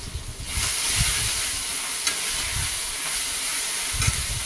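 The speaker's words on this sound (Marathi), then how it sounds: "हे बघा, असं तेलात तिखट टाकून परतलं ना, तिखट जास्त लागत नाही" Crushed green chili paste sizzles and spits in hot oil in a pan for a bottle gourd dish, a loud close crackling hiss with occasional stirring scrapes.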